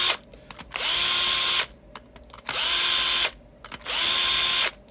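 Three bursts of a Bosch power drill whirring at steady speed, each about a second long, separated by short pauses with small clicks and handling noises, close and loud, as parts of a vintage 1982 Fender Stratocaster are turned.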